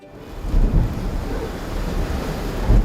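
A steady, heavy roar of 22 to 30 knot wind over open water on a Seawind 1370 catamaran under sail, with waves rushing and buffeting the microphone throughout.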